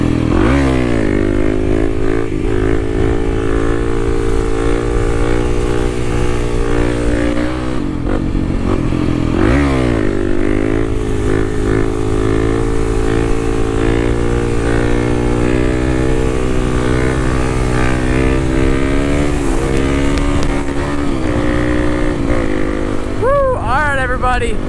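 A Kawasaki KLX300 dirt bike runs loud and steady up close as it heads home just off a trail, its engine drone holding with brief rev dips and a rising rev near the end.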